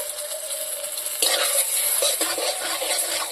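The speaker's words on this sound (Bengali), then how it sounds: "শুকনো লঙ্কা হয়ে গেছে, তাড়াতাড়ি এখন ফোড়ন দিয়ে দেব।" Bay leaf, dried red chilli and turmeric tempered in hot oil, a quiet sizzle that jumps into a louder bubbling fry with spatula stirring and scraping against the pan, close by and without speech.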